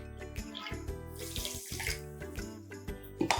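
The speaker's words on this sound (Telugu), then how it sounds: "వాటర్ పోసుకోవాలి." Water is poured from a cup onto sugar in a kadai on a gas stove while making a sweet, a soft, uneven splashing and trickling close by with short breaks.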